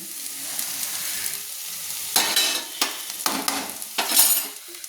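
Bitter gourd and potato curry stirred in a pan after roasted, ground poppy seed powder goes in: a steady close sizzle with several distinct scraping stir strokes, no talking.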